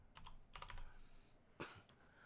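Typing on a computer keyboard while writing Java code, with short bursts of quiet, close key clicks separated by brief pauses and one sharper, louder keystroke near the end.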